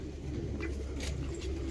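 Pigeons cooing softly in a loft of fancy breeds such as black helmet pigeons, low murmuring coos over a steady background hum, with a brief chirp-like accent midway.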